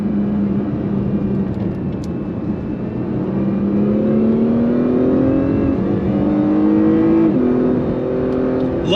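2022 Acura NSX Type S supercar accelerating from inside the cabin, engine tone climbing steadily through several gear changes, loud and continuous with no talking.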